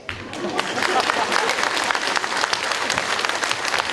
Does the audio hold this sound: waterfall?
no